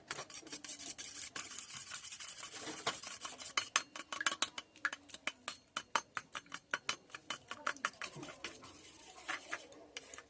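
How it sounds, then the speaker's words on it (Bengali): Eggs with chopped onion and green chili are beaten in a bowl: rapid, rhythmic scraping and clinking of a utensil against the bowl, close and steady, with no talking. "ভালো করে ফেটিয়ে নেব"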